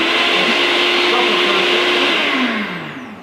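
An electric blender whirs loudly and steadily while blending liver with juice, its motor tone holding for a few seconds before winding down and fading toward the end.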